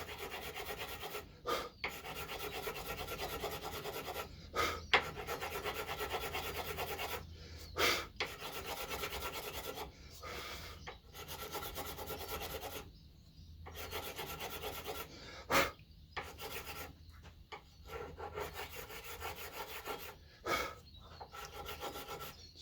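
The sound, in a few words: filing down fret ends on a guitar neck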